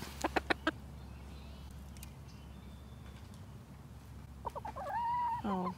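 Backyard chickens cluck in a few sharp bursts near the start, then a longer drawn-out hen call rises toward the end over steady low background hum.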